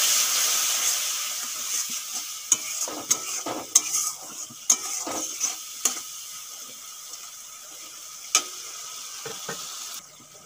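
Spice masala with tomato paste is stirred and fried in a pan, with a steady hiss of frying and sharp, irregular spatula clicks and scrapes, close and moderately loud, no voices.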